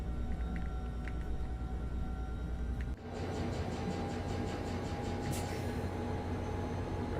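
A train in a train-driving video game begins to move, a steady broadband rumble with tonal whine and rhythmic rail clicks building after a brief pause, continuous and fairly loud with no talk.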